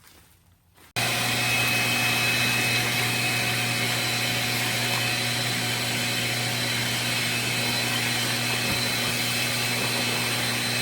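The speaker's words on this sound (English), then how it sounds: "Let me get a vacuum." After a brief quiet moment, a vacuum cleaner switches on and runs loudly and steadily, a constant whirring roar to the end.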